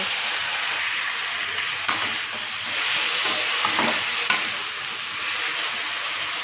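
Soaked thankuni leaves stirred in a hot pan, giving a steady wet sizzle and frying hiss throughout, broken by a few sharp scrapes and taps of the spoon against the pan.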